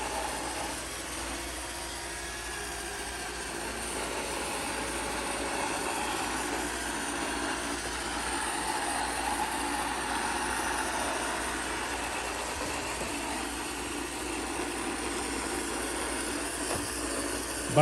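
A Roomba 692 robot vacuum runs and spins in a circle, making a steady, continuous motor and brush whir that stays close and even throughout.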